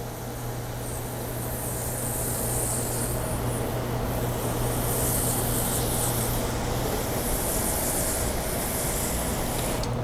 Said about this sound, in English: we're going to spray the solution on the side of the vehicle